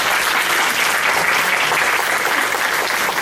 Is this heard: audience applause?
yes